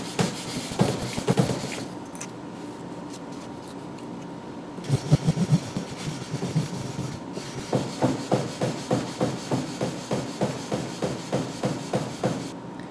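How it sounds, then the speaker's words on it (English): Sandpaper strokes scrape back and forth on a steel knife ricasso at 600 grit, speeding into a steady repeated pattern, close and moderately loud with no voices. "now I'm going to move on to sanding the Ricasso to 600 grit"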